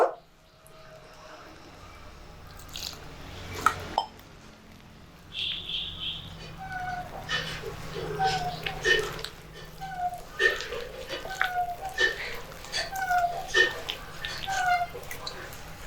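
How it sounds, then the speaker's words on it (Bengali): Gram flour batter for eggplant fritters mixed by hand as water is added a little at a time, giving irregular wet squelches, drips and splashes close by, with faint chirping in the background. "জল অল্প অল্প করে দেব আর মেখে নেব।"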